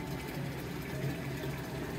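Primo water refill machine at Walmart filling a bottle, a steady bubbling rush of water swirling into the container, moderately quiet, with voices chatting nearby.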